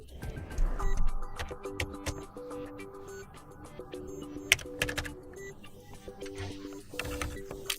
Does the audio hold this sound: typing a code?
yes